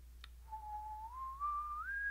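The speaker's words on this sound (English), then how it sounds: "Yeah, we gotta use a stupid whistle." Whistle in Kingdoms of Amalur: Reckoning, a single sustained tone sliding gradually upward over about a second and a half, clear and alone over a low hum.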